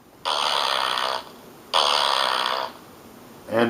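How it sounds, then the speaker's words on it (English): Fart sound effect played from a novelty sound effects machine: two long buzzing blasts of about a second each, separated by a brief pause, with a third starting at the end, loud and close. "Fart."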